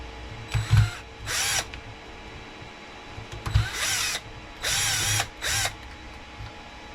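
A power driver fitted with a 2mm bit backing screws out of an Arrma Limitless V2 RC car, several short whirring bursts separated by pauses and faint clicks, close and fairly loud.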